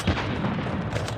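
Gunfire in the mobile game Call of Duty Mobile: a brief, loud, dense burst of rapid shots with booming low end, filling the whole short moment without any voices.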